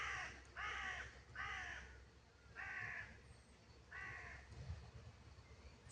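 Crows caw outdoors in a series of five or six harsh, evenly spaced calls, fairly distant and unaccompanied by talk.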